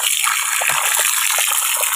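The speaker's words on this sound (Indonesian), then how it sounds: "Ini air keluar semua." Water gushes loudly and steadily from several opened taps on a tarpaulin fish pond, a continuous close rushing splash with no pause.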